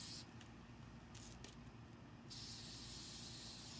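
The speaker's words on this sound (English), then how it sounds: "I'm just spraying it on the spots that are bleeding through." A spray can sprays primer onto the bleed-through spots of a nightstand being refinished, quiet hissing bursts in short spurts, then one longer steady hiss at the end.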